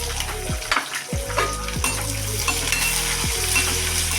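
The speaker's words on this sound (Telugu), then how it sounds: "ఈ ఉల్లిపాయలు కొంచెం ఎర్రగా వచ్చేటట్టు వేసుకుంటే క్రిస్పీగా బాగుంటుంది ఫ్రెండ్స్." Sliced onions sizzle and crackle steadily in hot oil in a pan, with a few close metallic scrapes and taps of a spatula stirring them.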